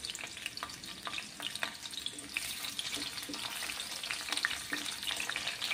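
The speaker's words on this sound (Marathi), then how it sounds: "तर आता व्यवस्थित आपल्याला शिमला मिरचीचे काप तेलावरती परतून घ्यायचे आहेत।" Bell pepper slices fry in oil with a dense, steady sizzle and soft clicks of stirring, close and fairly quiet.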